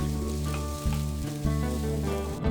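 Onions sizzle and fry steadily in hot oil, with a few brief stirring scrapes breaking the continuous crackle.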